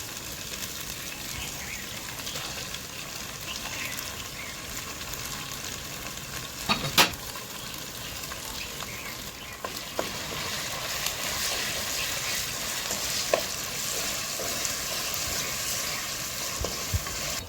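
A paste of Kashmiri chilli, cucumber and onion sizzles steadily in a pan, a continuous bright hiss broken by a few sharp stirring clicks.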